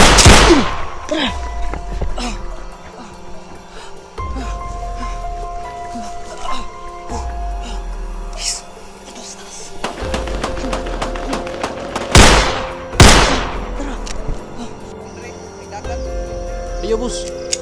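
Gunfire cracks out in a tense encounter, with several sharp, loud shots and bursts spread through the scene, some near and some farther off, amid rustling and movement.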